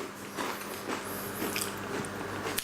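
Someone bites and chews a crunchy piece of homemade bread and butter pudding with marmalade, a close, moist crunching and chewing that runs steadily for a few seconds with no talk.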